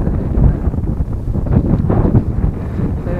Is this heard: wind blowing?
yes